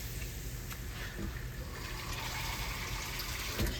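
Water pours into a pan of browned pork chops and onions for smothered pork chops, a steady close gushing and splashing wash of liquid that holds for several seconds with no talk over it.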